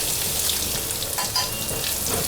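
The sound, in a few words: dried red chillies and turmeric powder frying in pan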